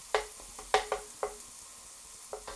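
Garlic sizzling in a pan while lasagne sauce is started, with several sharp clattering knocks of stirring scattered over a soft, steady frying hiss, close and fairly loud.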